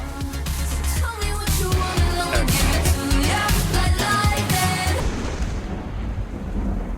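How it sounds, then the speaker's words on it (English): A thunderstorm effect inside a song: loud rolling thunder cracks and rain run over dense music for several seconds, then fade into a lone, dull rumble. "Nice touch. The thunderstorm."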